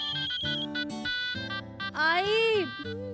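A phone rings with a bright melodic ringtone, its tones sliding and pulsing continuously.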